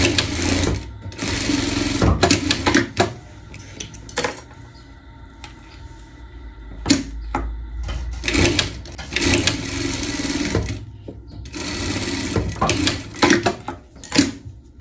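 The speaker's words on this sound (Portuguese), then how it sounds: "passar uma costura dos lados" A sewing machine stitches the side seams of a summer balloon-style jardineira outfit in loud, close bursts of rapid whirring, with short pauses and handling clicks between runs.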